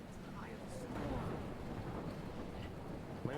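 Thunderstorm with heavy rain and wind in the video game Life is Strange, a dense steady roar with faint rumbles throughout and no speech.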